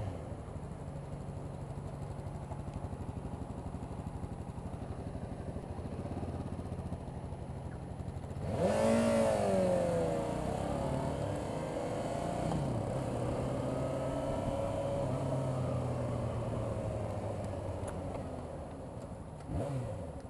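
A Yamaha FZ6R motorcycle on a test ride, with its engine humming steadily before a rising rev at the midpoint, then a sustained throttle drone with wind noise that slowly eases off.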